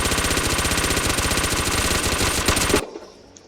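Rapid automatic Tommy Gun fire in the Anime Battle Arena video game, a dense, loud, continuous burst of shots lasting nearly three seconds before cutting off abruptly into quiet.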